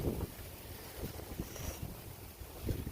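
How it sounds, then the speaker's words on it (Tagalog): Strong gusty wind in the aftermath of Typhoon Leon roars steadily against the microphone, with low rumbling buffets rising and falling throughout and no voices. "Sobrang lakas ng hangin."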